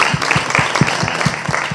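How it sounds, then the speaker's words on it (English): An audience at a women's education event applauds, a brief, fairly loud burst of steady rhythmic clapping that fills the room. "I think she deserved a round of applause."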